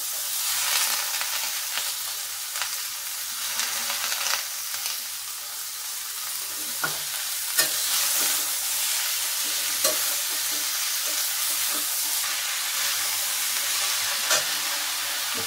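Vegetables fry in a pan with a steady, close sizzle and hiss, broken by occasional soft clicks and scrapes as they are stirred.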